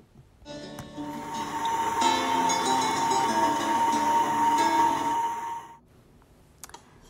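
An electric stand mixer whirs while mixing sugar in a bowl: a steady, loud motor hum with rattling beater clatter that runs for about five seconds, then cuts off, leaving a few faint clicks.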